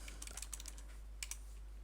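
Quick typing on a computer keyboard, bursts of close, light key clicks in two short runs separated by a brief pause, alone over a low steady hum.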